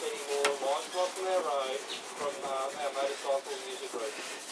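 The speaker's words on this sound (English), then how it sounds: "So now I'm just going to use a coarse steel wool on this." Coarse steel wool rubs across hardwood finished with boiled oil, making a steady, close scratching with squeaky, rhythmic strokes that repeat throughout.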